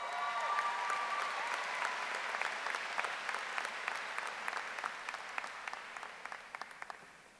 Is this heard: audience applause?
yes